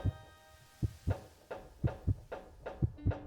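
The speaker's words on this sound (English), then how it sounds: "Oh no, heartbeat noises." Heartbeat sound effect from the video game Cavern of Dreams: deep, regular double thumps pulsing about once every half second, loud and close, over a faint steady hum, with no talking.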